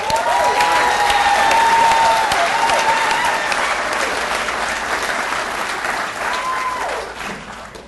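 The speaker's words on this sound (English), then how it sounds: "Let's give this committee a round of applause" Loud, sustained applause from a sizable crowd at a Narcotics Anonymous convention, with a few whistles and cheers on top, gradually tapering off toward the end.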